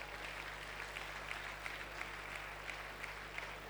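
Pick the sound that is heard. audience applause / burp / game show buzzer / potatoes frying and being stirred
audience applause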